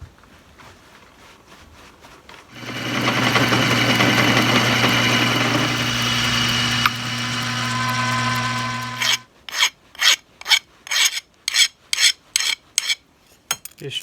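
A hand file rasps over a metal control part on a 1976 Case 450 crawler to chamfer an edge: first a long continuous scrape, then about ten short, evenly spaced strokes, close and clear.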